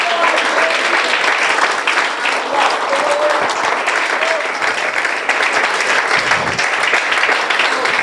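A church congregation claps hands together in steady, dense applause that fills the room continuously, loud and close, with faint voices mingling underneath.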